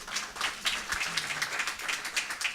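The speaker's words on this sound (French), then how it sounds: "El Hafid Ezabour, s'il vous plaît, applaudissez ce monsieur" Audience at a literary evening honoring Moroccan writers in Canada applauding a speaker, a fairly faint, steady patter of scattered hand claps lasting a couple of seconds.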